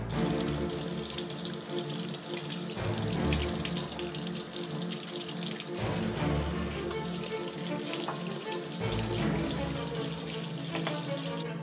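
Frozen Costco abalone being rinsed under a running kitchen tap, steady splashing water near and loud with brief shifts as the shellfish is moved, no speech.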